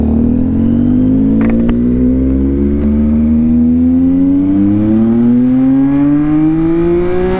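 A Yamaha MT-09 motorcycle on new Bridgestone Battlax T32 tyres accelerates steadily out of a quiet subdivision. Its engine note climbs smoothly in pitch over several seconds, loud and close with a steady road rumble underneath.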